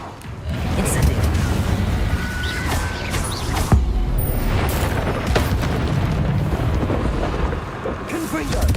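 Spell combat in Hogwarts Legacy with repeated Incendio fire casts: dense, continuous rumbling blasts and crackling bursts over several seconds, loud and close, with spoken incantations mixed in.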